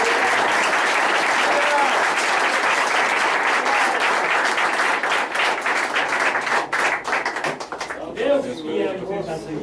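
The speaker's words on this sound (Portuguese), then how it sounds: "vamos aplaudir Jesus" A church congregation applauds at a Portuguese-language worship service, a loud, dense wash of clapping that holds steady and then thins and fades out, with voices heard within it.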